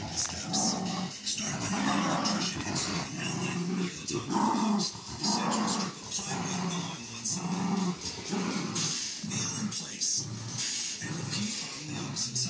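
Dogs growl and snarl playfully in bursts while playing tug of war, close by, with low rumbling tones and occasional whimpers while a person talks over them.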